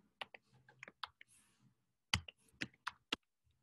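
Quiet keyboard typing, scattered clicks and taps in an irregular rhythm, close to the microphone with a soft rustle partway through.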